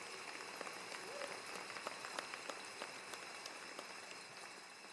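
Applause from the audience at a Mines undergraduate commencement ceremony, a steady wash of many hands clapping with scattered sharper claps, sustained throughout at moderate loudness.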